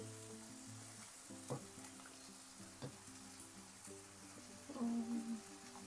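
Tomato sauce for pasta fries quietly in a pan, a faint hissing sizzle with a few soft stirring taps, heard at a distance under a low steady background tone.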